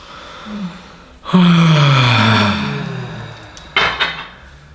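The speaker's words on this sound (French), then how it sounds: "Une grande respiration vocale." A big, deep audible breath taken during a guided online meditation session, a loud voiced exhale sliding downward for over a second and settling into a softer breathy tail.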